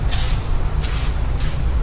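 Adams Polishes wheel cleaner sprayed onto the wheels of a BMW F80 M3 outdoors, three short hissing bursts from a trigger sprayer over steady low wind rumble.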